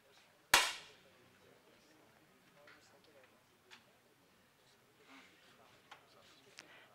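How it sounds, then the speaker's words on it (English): A 10m air rifle fires one sharp, close crack in a women's final at the 2013 ISSF World Cup in Munich, followed by a quiet hall with faint murmurs and small clicks. "EVESQUE shooting very well"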